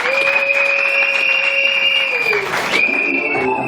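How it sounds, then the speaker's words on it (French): Applause from guests at a civil wedding ceremony, dense clapping that runs throughout, mixed with sustained tonal sounds and a brief murmur of voices. "Applaudissez pour la lecture du PV de l'air du mariage."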